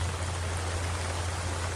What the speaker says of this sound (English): Here it comes. Here comes the rain.